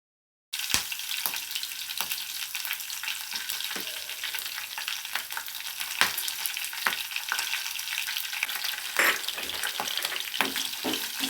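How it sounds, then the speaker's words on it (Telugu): Whole spices with bay leaf and cashews frying in hot oil for a restaurant-style paneer masala curry: a steady, close sizzle with scattered pops and the occasional scrape of stirring throughout. "అదే ఆయిల్లోకి వేసుకొని ఫ్రై చేసుకోవాలి"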